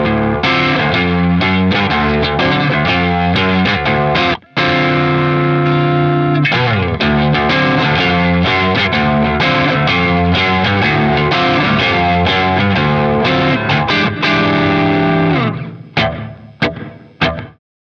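Loud distorted rhythm guitar strums chords steadily through a KMA Audio Machines Cirrus reverb in high-pass filter mode, with a short, subtle vintage reverb tail, ending with a few scattered notes fading out.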